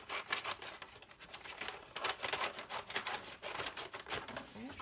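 Scissors cut through a paper bag being trimmed into sketchbook pages, a quiet, steady run of crisp rustling snips and paper crinkles heard close up with no talking.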